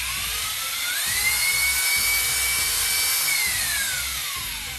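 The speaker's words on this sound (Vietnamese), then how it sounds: "đây là chế độ khoan thường." Hitachi DH28PCY hammer drill running in plain drilling mode without hammer action, a steady, smooth whine that rises in pitch as it speeds up, holds, then winds down, loud and close with no talk.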